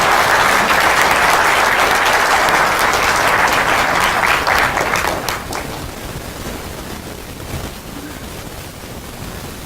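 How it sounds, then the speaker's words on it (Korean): An audience at an evening international seminar lecture claps loudly to welcome the speaker, a steady dense roar of hands that gradually fades to a softer patter. "큰 박수로 환영합니다."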